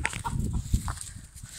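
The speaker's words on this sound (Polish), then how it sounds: "Dobra, tu jest kogut." Nearby rooster clucking and scratching, short throaty calls scattered over rustling movement, no talking.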